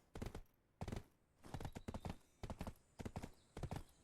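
Horse hooves clip-clopping in the Black Desert video game, a steady series of close, loud hoofbeat clusters spaced evenly across the clip, with no voices.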